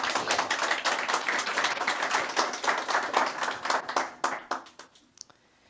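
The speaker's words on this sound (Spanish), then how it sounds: "Dele un aplauso al Señor porque Él es lindo con nosotros." A church congregation at a Spanish-language service claps together in a lively burst, dense at first, then thinning into scattered individual claps before dying away.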